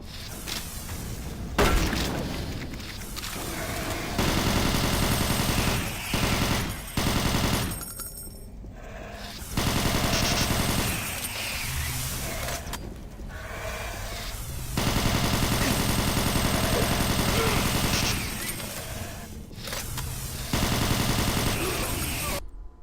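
Loud gunfire in Doom 3, repeated bursts of rapid machine-gun fire broken by short pauses, thuds and crashes, with occasional speech mixed in.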